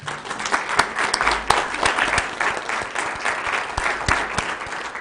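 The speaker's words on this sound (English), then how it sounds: "will you give them a round of applause, please?" An audience at a live county event breaks into steady applause, many hands clapping in a dense, sustained wash that stays even for several seconds, with a few sharper individual claps standing out near the microphone.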